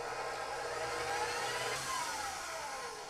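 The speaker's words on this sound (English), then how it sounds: "I have my mixer here fitted with a whisk attachment" A stand mixer fitted with a whisk attachment whirs steadily at medium speed, beating egg whites until frothy; a continuous close motor drone with a slight shift in pitch, no talk.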